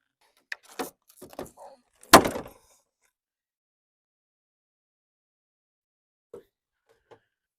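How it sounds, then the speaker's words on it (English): A few sharp cracks and scraping pops as the 3M adhesive tape holding a sixth-generation Camaro ZL1 rear spoiler is pried loose, then quiet with two faint ticks. "Try to break this 3M tape loose."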